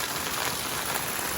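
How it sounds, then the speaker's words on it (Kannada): Heavy rain falls outdoors in Bijapur, a dense, steady hiss of water striking surfaces with no distinct drops or voices. "ಇಲ್ಲಿ ನೋಡ್ರಿ ಮಳೆ ಮೇಲೆ ನೀರು ಬೀಳೋ ಫೋರ್ಸ್ ನೋಡ್ರಿ."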